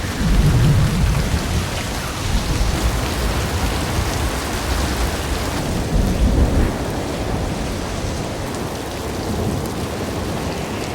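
Heavy rain pouring down in a steady, dense hiss with low rumbling thunder rolling underneath, loud and continuous throughout with no talking.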